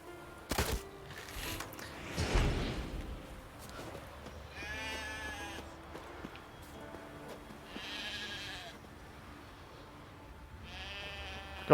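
A sheep in the video game The Witcher 3 bleats three times at intervals, each call wavering and moderately loud, amid game background noise and a few sharp knocks early on.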